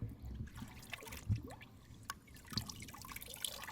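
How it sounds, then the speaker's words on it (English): Dirty black-powder residue water dripping out of a seized-up firearm, a series of small, close, irregular drips and trickles at low volume, with no talk. "Look at that, just blackness just dripping out of that thing."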